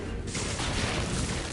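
Corpse explosion spell in Diablo 2 going off as a dense, loud, crackling burst of blasts that fills the whole moment with roaring noise and no voice.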